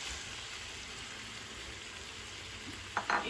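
Cabbage stir-fries for pancit bihon in a garden, giving a steady soft sizzle with faint crackle. A few clicks of a utensil come at the end, and there is no talk.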